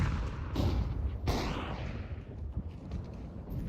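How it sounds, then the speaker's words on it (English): A video game grenade blast: a loud, broad rumbling boom opens the clip, a second sharp blast follows about a second later, and a long roaring tail with crackling debris keeps going to the end. "I'm throwing a grenade!"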